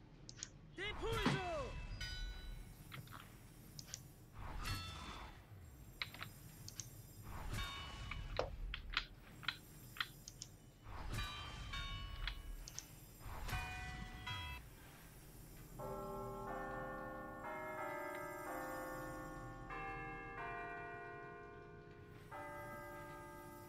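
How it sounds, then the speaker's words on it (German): Glockenspiel bells in the Harry Potter and the Order of the Phoenix video game ring out as bright struck tones, first scattered among clicks and thumps, then as a clear sequence of melodic notes near the end. "Ah, ein Glockenspiel."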